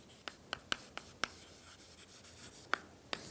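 Chalk or marker taps and strokes on a board during a doctoral lecture on partial differential equations, a sparse series of short sharp clicks and scratches at irregular intervals, quiet and close, with no talking.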